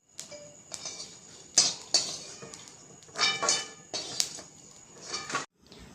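A metal spoon scrapes and clanks against a pan while mace and javitri roast in a little oil, giving irregular clinking strokes with short pauses between them, close and moderately loud.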